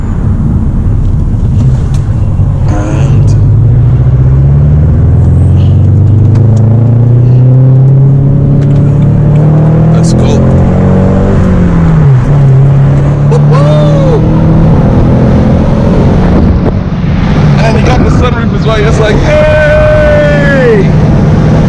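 A BMW 1 Series E82 with a six-speed manual gearbox drives hard, its engine revving up and dropping back through gear changes in a loud, continuous rising and falling drone, with a voice talking at times.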